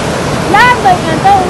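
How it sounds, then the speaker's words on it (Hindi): Flowing mountain stream water at Usheri Gurki in Upper Dir, a loud, close, continuous rushing wash, with a voice speaking over it. "ये देखे पानी का फ्लो,"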